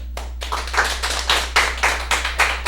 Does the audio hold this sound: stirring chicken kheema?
no